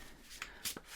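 A deck of oracle cards being shuffled, two quick riffling bursts of card flutter close by and quiet, with no talk.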